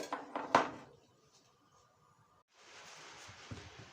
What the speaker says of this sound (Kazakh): Дәл осылай кабачогымызды турап аламыз.